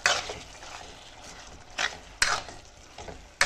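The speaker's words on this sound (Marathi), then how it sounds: "आता या स्टेपवरती ॲड करूयात आलं लसूण आणि कोथिंबीरीची पेस्ट 3 चमचे" Prawns coated in ginger, garlic and coriander paste are stirred in a hot pan for a pumpkin masala: a few distinct spatula scrapes over a soft, constant sizzle, heard up close.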